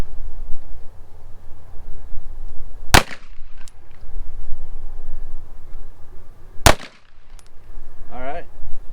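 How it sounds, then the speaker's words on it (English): Two loud, sharp pistol shots from a Canik TTI Combat at a shooting range, a few seconds apart, close against steady outdoor background noise. "So we'll pop off some more rounds. We'll do another 2 center mass."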